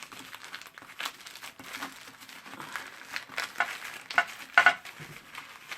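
Paper being rolled up for a mixed-media album cover gives close, irregular crinkling and rustling, soft at first and building to a few sharper crackles near the end.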